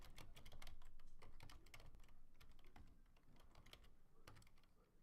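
Rapid, close keystrokes on a computer keyboard form a dense run of clicks with short gaps, quiet overall, while an email address is typed into a form.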